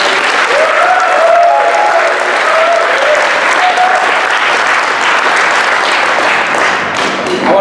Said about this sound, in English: Big applause to the guys from.